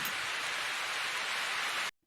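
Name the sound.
heavy rain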